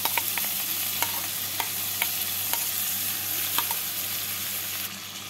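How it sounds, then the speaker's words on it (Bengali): A spoon scrapes rhythmically through chicken mixed with spinach, coriander and green chilli paste in a frying pan, each stir clicking against the pan over a steady gentle sizzle. No one talks. "মাংসের সাথে ভালো করে মিশিয়ে নেব।"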